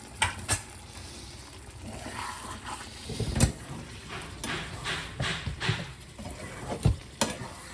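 Bitter gourd frying in a pan with curry leaves and grated garlic, giving a soft steady sizzle broken by sharp clatters of a spatula stirring and scraping the pan, close and fairly quiet.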